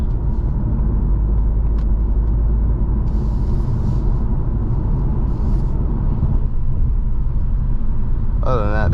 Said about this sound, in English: I get here just a little bit of drone from the pipes